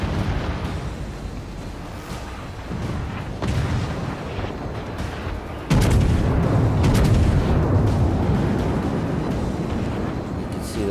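Naval artillery shells firing from a Chester cruiser in World of Warships, deep booming blasts under steady rumble, with a sharp louder salvo midway, continuous and close.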